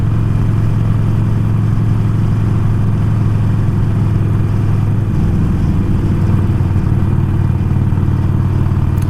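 Harley-Davidson Iron 1200 motorcycle ridden through a forest with a group of friends, its engine a steady, loud, low rumble that holds even throughout, with no voices over it.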